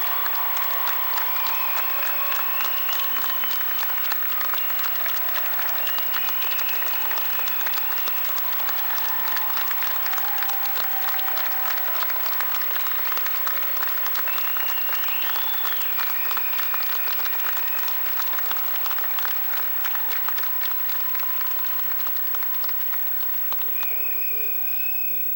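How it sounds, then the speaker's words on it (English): Sustained applause from a large standing audience at a Missouri Southern State University fall commencement, steady and dense for the full stretch, with crowd murmur and scattered voices underneath and no pause. "Ladies and gentlemen, let's stand and give them a round of applause."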